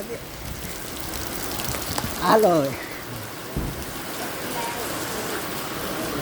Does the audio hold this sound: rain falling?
yes